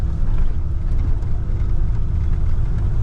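A 1966 Ford Bronco pick-up 4x4 driving, a steady close low engine rumble with a faint mid-range hum, even and unbroken, no talking.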